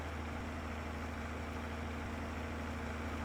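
An old white tractor in Farming Simulator 22 idles with a constant, low, rumbling drone and an even steady hum throughout, with no voices.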